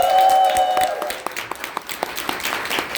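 Audience applause at a seminar talk, heard as a burst of scattered clapping that starts near and thins into separate claps, with a sustained tone lingering at the start.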